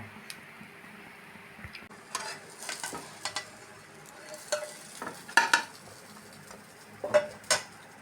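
Bread with egg, made with small bananas, fries in a pan under a low, steady sizzle. A utensil intermittently stirs and scrapes against the pan, producing sharp clinks and taps in irregular bursts.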